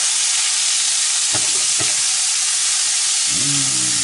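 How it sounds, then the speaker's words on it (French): Smoked lardons sauté in a pan with a steady broad sizzle and soft frying hiss, a couple of brief knocks and a short stir near the end. "Du lardon fumé. Revenir tout ça."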